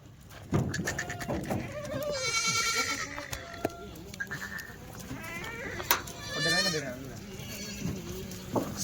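Kathiawari goats bleating close by at a goat market, several wavering calls that come and go, with people talking in the background.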